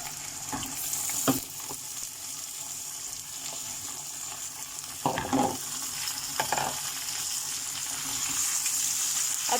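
Chicken fries in a pan with whole spices, a soft steady sizzle with a few sharp stirring clatters and scrapes, quiet and close with no talking.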